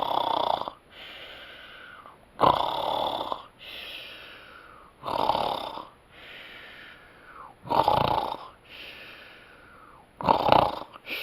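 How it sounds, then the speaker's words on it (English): Loud, regular snoring from someone asleep, with five drawn-out breaths recurring every two to three seconds and near silence between them. "You're snoring too loud!"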